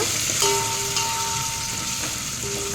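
Onions fry in a pan with a loud continuous close sizzle and occasional light stirring clatter, alongside a faint steady tonal hum.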